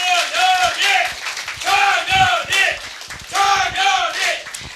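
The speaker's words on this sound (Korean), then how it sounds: "그랬더니 다들 이렇게 환호를 해주시더라고요" A crowd at a political rally cheering and chanting in repeated rhythmic bursts, loud and close, with several surges of massed voices and scattered claps.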